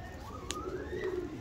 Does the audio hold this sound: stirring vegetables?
no